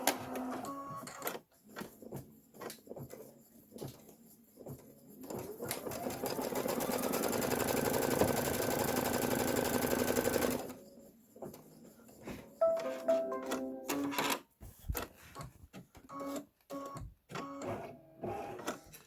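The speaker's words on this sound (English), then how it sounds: "we're going to stitch the background placement line" An embroidery machine stitching a background placement line for a quilted bench pillow block, with a steady mechanical whirring run lasting several seconds among scattered handling clicks and rustles.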